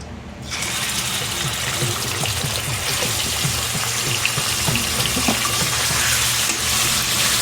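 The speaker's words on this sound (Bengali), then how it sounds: "কড়াইতে সর্ষের তেল দিলাম, দিয়ে চিকেনটা ভালো করে ধুয়ে এবার ভেজে নিলাম" Chicken sizzles in hot mustard oil in a wok, a loud continuous bright crackling hiss that starts abruptly and holds steady throughout, close by and without any voices.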